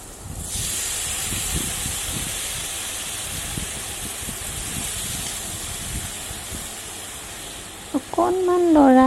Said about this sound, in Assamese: উতলা পানী দিছোঁ।